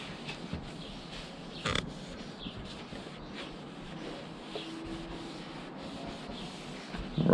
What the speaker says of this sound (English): start up sanding up the headlight with a 500 grit sandpaper